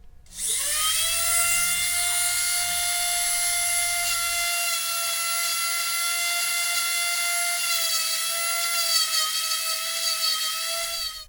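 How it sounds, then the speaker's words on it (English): A Dremel cutoff wheel grinds nubs off a Glock 19X slide, a steady high-pitched whine that spins up quickly and holds for about ten seconds, loud and close. "we're going to use this Dremel wheel to grind away those nubs"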